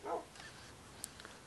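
A dog in a video game barks once, short and fairly faint, then quiet game ambience.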